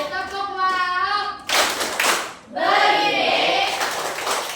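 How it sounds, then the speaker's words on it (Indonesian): Children in a classroom clap together in a short burst after a pause, loud and close, with voices before and between the claps. "tepuk tangan untuk Adit, tepuk tangan."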